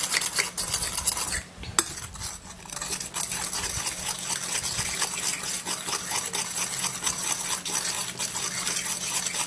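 A spoon stirs an aloe vera gel mixture in a bowl, making continuous rhythmic scraping and light clinking, close and fairly loud, with a brief pause early on.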